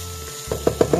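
Shrimp paste and dried anchovies sizzle in a hot pan, with a few soft stirring scrapes that come close together near the end over a steady frying hiss.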